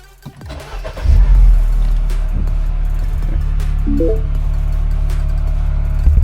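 A car engine starts with a brief crank and catches, then idles smoothly and evenly up close, with a few faint clicks and knocks on top.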